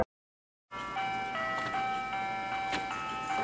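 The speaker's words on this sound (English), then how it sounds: "The music the truck plays doesn't sound creepy at all" An ice cream truck plays its jingle, a steady electronic melody of sustained tones with brief brighter accents, loud and continuous after a short silence at the start, with no talk.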